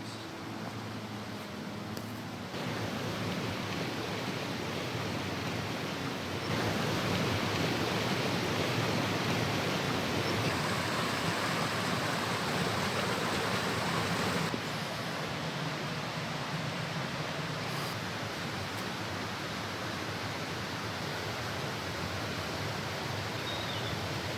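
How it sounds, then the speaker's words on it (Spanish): Waterfall beside a forest trail in Bierzo, a steady broadband rush of falling water close by and without pause, growing fuller partway through before easing slightly, with no voices over it. "a 100 metros está la cascada"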